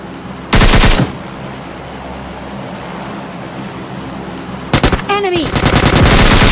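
Automatic gunfire rattles in the mobile battle royale game PUBG Mobile Lite: a loud burst of rapid shots, a pause, then a longer sustained stream of rapid fire building to close, heavy volleys.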